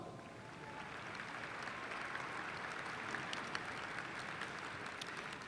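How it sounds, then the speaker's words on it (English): A large audience at the Murray State University December 2016 commencement ceremony applauds in a steady, sustained roar of many hands that holds at an even level throughout. "Please give him a round of applause."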